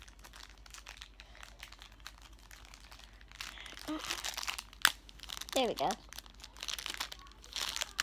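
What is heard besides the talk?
crinkling plastic blind bag being opened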